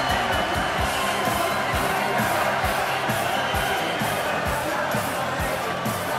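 Packed crowd at a darts match roaring and cheering steadily, a dense wall of voices with rhythmic thumps and claps running through it, loud and sustained.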